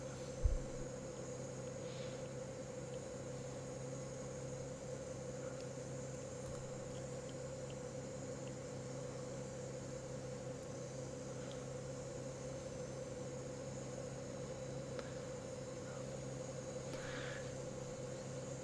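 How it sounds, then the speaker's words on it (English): Airbus A320 engine 2 spooling up in a flight simulator cockpit, a steady droning whine with a low hum, constant and moderately loud throughout, with no talking. "Starting engine 2."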